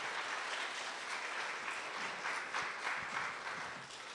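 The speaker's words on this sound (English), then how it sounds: "Please give Gail another round of applause." Audience applause at a storytelling event about moon legends, a steady wash of many hands clapping, moderately loud and continuous, tapering slightly at the end.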